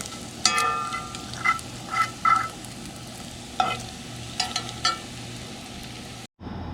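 Bacon sizzles in a skillet, its rendered grease crackling steadily under scattered scraping and clattering stir sounds, followed by a brief drop to silence near the end.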